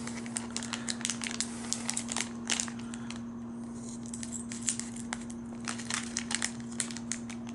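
Scissors cutting open a crinkly plastic bag holding a Lego minifigure, with soft snips and crinkling rustles close by against a steady low hum.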